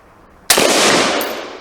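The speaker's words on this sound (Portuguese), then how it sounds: "Segundo disparo, munição OTM 77 graus." A single loud rifle shot of 5.56 OTM 77-grain ammunition at a ballistics test range cracks suddenly after a quiet moment, followed by a long, hissing reverberant decay.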